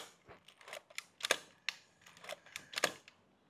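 The titanium shutter of a Minolta camera fires in a series of sharp, quiet mechanical clicks at close range, several snaps spaced irregularly in a hushed room.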